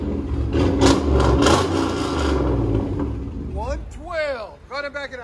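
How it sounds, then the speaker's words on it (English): A loud, close V8 roar from a 2000 Chevy Tahoe 5.3L running straight-pipe true dual exhaust, revving in pulses before easing off as people start talking over the idle. "2000 Chevy Tahoe straight pipe duals."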